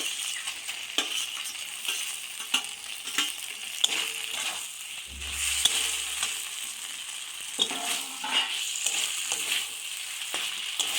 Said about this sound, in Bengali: এবার ভেজে রাখা শিম আলুগুলো দিয়ে দিলাম।